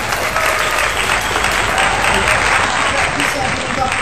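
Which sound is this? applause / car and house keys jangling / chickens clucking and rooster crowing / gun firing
applause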